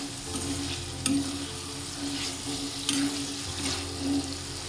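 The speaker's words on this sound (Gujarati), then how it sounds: "હવે આપણે સરગવાની સીંગ એડ કરી દઈએ અને સારી રીતે મિક્સ કરી લઈએ." Drumstick pods being stirred into a masala frying in a pan for a Gujarati drumstick curry, a steady sizzle with scraping stir strokes about every second or two, close and alone without talk.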